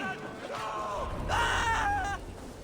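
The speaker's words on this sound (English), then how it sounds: "Did you hear that scream?" A distant, drawn-out scream in the video game Assassin's Creed Valhalla, rising and wavering over a low rumbling background.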